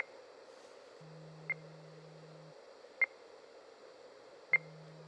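A Project Life Saver tracking receiver gives three short, evenly spaced beeps about a second and a half apart over a faint steady hiss, with a low tone humming between some pulses.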